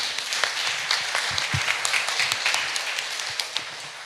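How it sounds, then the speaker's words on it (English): Audience at a BlockSplit livestream event gives a round of applause, a moderate spread of individual claps forming a crackling patter that slowly tapers off over four seconds. "Please give a big round of applause for Ms. Jadrana and Danny."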